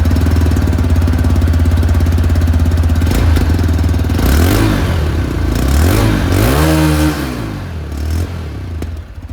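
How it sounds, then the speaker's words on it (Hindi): A 2026 TVS Raider 125 motorcycle idling close by with a steady, thumping exhaust beat, then revved a couple of times in rising and falling sweeps before settling back to a quieter idle. "एक बार एग्जॉस्ट साउंड में आपको सुना तो एग्जॉस्ट साउंड आप लोगों को सारी मॉडल में आप लोगों को सेम मिलेगा।"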